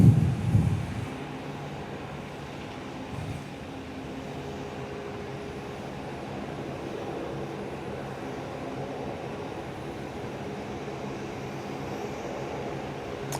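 A Qantas airliner departing Perth airport is heard as a steady, distant jet engine rumble that holds constant throughout, with a brief louder thump at the start and no talking.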